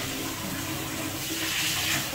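Water runs from a hotel tap in a steady, close hiss that swells slightly toward the end, with no talking over it.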